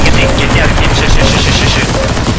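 Continuous game gunfire from CS:GO Zombies on the Evernight map, stage 3, a dense rattling barrage that stays loud and steady throughout with no pauses, with a voice talking over it.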